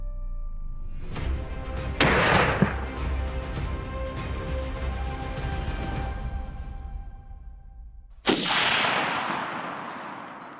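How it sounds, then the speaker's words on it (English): Rifle shots crack out during a wild boar hunt. A few loud, separate blasts each trail off into a long, fading echo, with a pause of several seconds before the last shot. "The crack of gunfire took down 2 more."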